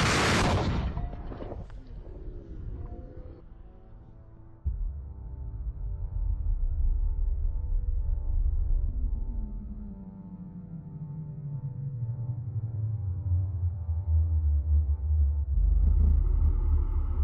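A COBRA solid-fuel amateur rocket with a three-segment solid motor explodes in a sharp broadband burst, then a long heavy rumble with droning tones and a slowly falling roar that lingers and swells again near the end.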